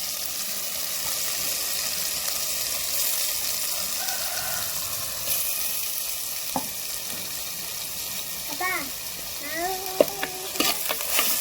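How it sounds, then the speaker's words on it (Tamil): A ground spice mixture sautés in a pan with a steady, close hiss of frying, and a few brief tonal sounds and clatters surface toward the end. "இது நல்லா வதக்கிக்கலாம். இது மாதிரி நல்லா வதக்கிக்கலாம்."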